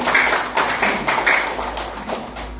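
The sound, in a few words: audience clapping hands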